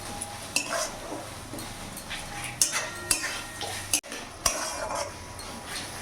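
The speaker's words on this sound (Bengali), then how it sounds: "ভালো করে মিশিয়ে নেব ভালো করে কষিয়ে দেবো মশলাটা" Chicken masala being stirred and fried in a pot, with a spoon scraping and clinking against the metal in irregular strokes over a steady low sizzle, close and fairly loud, with no talking.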